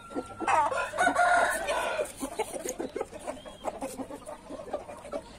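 A Galo Índio rooster clucks and calls loudly up close on a hot day, with bursts of squawking early on, then softer clucking and background chatter.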